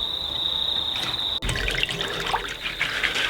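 Warm water trickles and splashes in a bowl as kohekohe seeds are washed by hand, with a steady high whine running underneath and soft sloshing that thickens after a brief pause.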